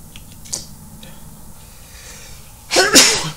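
A single sharp sneeze bursts out near the end, close and loud, after a quiet stretch with faint clicks during a tabletop game session.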